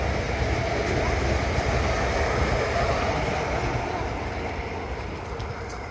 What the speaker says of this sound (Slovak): To je úplne prázdny vlak.